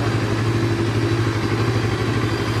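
A CF Moto NK 400 motorcycle engine idles steadily, a close, even low rumble that holds constant throughout with no talk.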